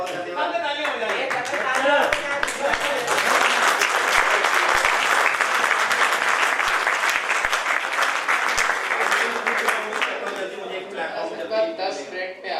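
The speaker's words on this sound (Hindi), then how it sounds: "तालियां हो जाइए।" Sustained audience applause after a stage play in Kanpur, a dense, loud wash of many hands clapping that holds steady for the whole stretch with a few sharper claps standing out.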